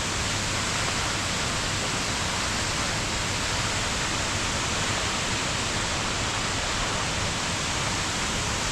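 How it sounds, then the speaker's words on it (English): Jang Falls, also called Nuranang Falls, near Tawang in Arunachal Pradesh roars as a constant, loud broadband rush of falling water, unbroken and close. "It is a really beautiful waterfall"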